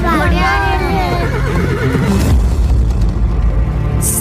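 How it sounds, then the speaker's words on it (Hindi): Loud horse neighs and whinnies from a recorded soundtrack at a stage dance performance, wavering cries over a booming low rumble and galloping clatter, with dense background noise. "चलो भागो, घोड़े आ रहे हैं।"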